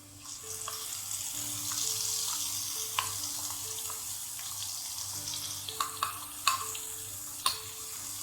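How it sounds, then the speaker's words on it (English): Curry paste and onion sautéing in oil for a Kerala fish curry, a soft steady sizzle with a few sharper clinks of a spoon against the pan near the end, close and without talk, over a low steady background hum. "Saute the curry paste until streaks of oil can be seen on the surface."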